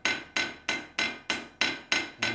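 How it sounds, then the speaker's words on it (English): Eight sharp metallic hammer strikes ring out in an even, quick rhythm, forging the edge of a letter opener, each blow close and clear with a short decaying ring. "each and every little hammer blow that I do"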